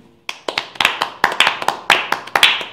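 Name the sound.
applause welcoming Palencia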